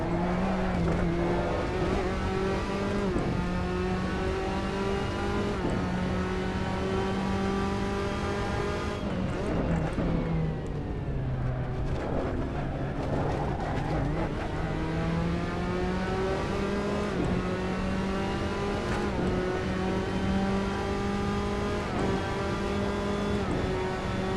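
A Tatuus Formula Abarth single-seater racing at Imola in Assetto Corsa: a loud, continuous high-revving engine whine that rises and falls with gear changes, dipping briefly under braking before climbing again.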